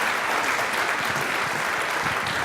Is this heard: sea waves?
no